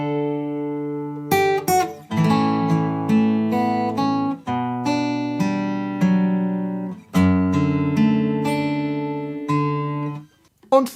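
A guitar plays a melodic line from the Brokeback Mountain theme, plucked notes ringing clearly and alone with a steady, unhurried rhythm and sustained open strings.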